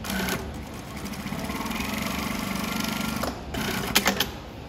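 A JUKI industrial sewing machine back stitching, a fast steady mechanical whir with a brief pause and restart, close and loud.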